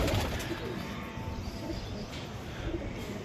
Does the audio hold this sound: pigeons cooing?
yes